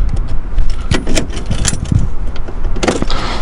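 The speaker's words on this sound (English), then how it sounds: "You put a key into the ignition." A key goes into the ignition of a prototype electric Citroen 2CV with a close, brief metallic jangle. A few crisp clicks and rattles follow in a short burst, with no engine noise.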